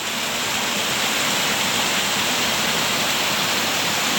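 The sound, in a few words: waterfall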